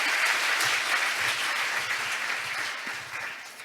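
An audience at the 18th Seoul ODA International Conference applauds with steady, dense clapping that holds strong and then gradually tapers off.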